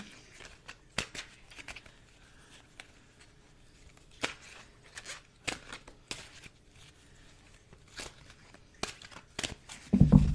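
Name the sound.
shuffling tarot cards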